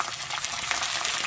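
Cumin seeds and ginger-garlic paste hit hot oil in a pan for chicken tikka karahi, giving a close, bright, crackling sizzle that stays continuous and loud.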